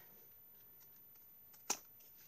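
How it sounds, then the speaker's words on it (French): A single crisp snip of scissors cutting away excess paper from a handmade scrapbook album, one short close burst breaking an otherwise quiet background. "je prends une paire de ciseaux et je viens enlever"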